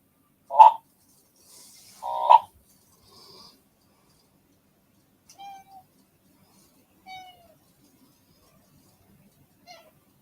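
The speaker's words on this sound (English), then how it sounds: "What are you meowing for?" A cat meows a few times, two louder close calls early on followed by fainter, shorter mews spaced out through an otherwise quiet room.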